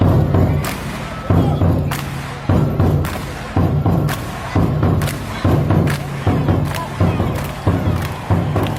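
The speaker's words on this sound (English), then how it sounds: "Now, here's Lindy banging the drum post-game." A drum banged at a post-game celebration after a Spurs NBA game, about a dozen heavy, booming thuds at a steady pace over a continuous arena crowd roar.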